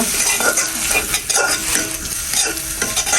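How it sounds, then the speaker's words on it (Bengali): Sliced onions sizzling and frying in a pan while a utensil stirs them, giving loud, continuous crackle with repeated scraping strokes and no talk. "এবার পেঁয়াজগুলো মিক্স করে দেবো"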